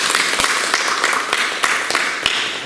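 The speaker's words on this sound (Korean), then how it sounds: "박수 주세요." An audience at a Korean dharma lecture claps, with sharp individual hand claps standing out as a short burst of scattered applause.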